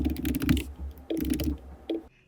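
Fast typing on a computer keyboard while filling in a Google Sheets spreadsheet, two close bursts of rapid key clatter separated by a brief pause, ending with a few final taps.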